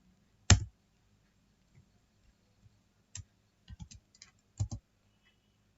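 Computer keyboard keys are pressed during a command-line domain upgrade: a sharp single keystroke, then sparse clusters of quiet clicks and taps against near silence, close to the microphone, with no talking.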